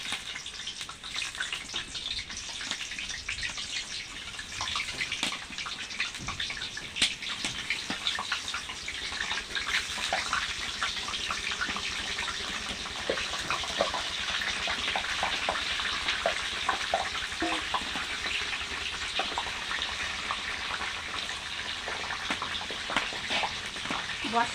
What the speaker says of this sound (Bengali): তেলটা গরম হয়ে গেছে, আমি এই পটলগুলো এর মধ্যে দিয়ে দেবো সব।